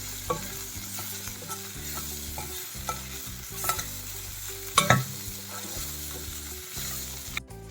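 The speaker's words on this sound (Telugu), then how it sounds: "ఇప్పుడు పైకి కిందకి ఒకసారి కలుపుకుందాం" Potato kurma with gram flour stirred in a pan: repeated scraping ladle strokes over a steady sizzle, with a sharp metal clank midway and a low rhythmic hum underneath.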